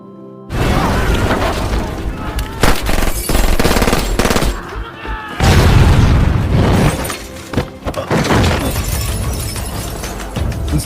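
Gunfire and explosions fill a Korean diamond-heist film's police shootout: rapid bursts of shots, heavy booms and shattering crashes, loud and dense throughout with brief lulls.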